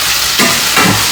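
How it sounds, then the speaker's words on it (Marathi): Okra (bhindi) frying in a pan gives a loud, close, continuous sizzle, swelling twice as it is stirred, with no voices. "तर मस्त फ्राय होऊ देऊ भेंडी"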